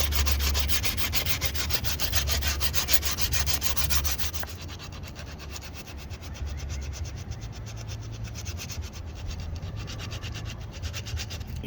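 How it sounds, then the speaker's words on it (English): Steady rhythmic rubbing of sandpaper against a handmade wooden walking stick, a continuous close scratchy hiss with quick back-and-forth strokes throughout, no voices. "I'll clean it up with sandpaper."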